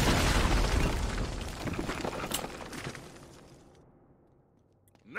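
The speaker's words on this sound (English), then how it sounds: "Oh, there's a barrel bomb there." A barrel bomb blows up in Uncharted: Drake's Fortune, a loud broadband blast right at the start, then debris crackle and a rumbling tail fading toward quiet over several seconds, with a small sharp pop near the end.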